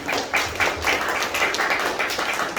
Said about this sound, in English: give Joaquin a big round of applause before he starts